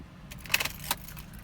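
Keys jangle close by in a few quick metallic clinks as the key is removed from a car left running by a Viper 5706V remote start, over a faint idling engine hum.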